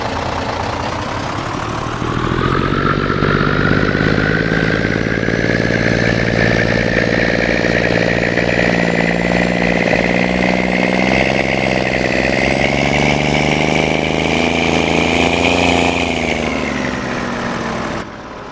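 Peterbilt semi truck engine in Farming Simulator 22, heard from outside the cab: a loud, steady diesel drone that rises after a couple of seconds, holds with slowly shifting pitch, then eases off near the end, with no talking.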